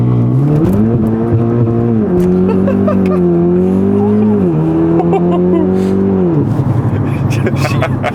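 A 400bhp Audi S3 pulls away hard on a damp, slippery road, its engine droning loud and close with rising, shifting pitch as the wheels spin, then tailing off into a noisier rumble near the end.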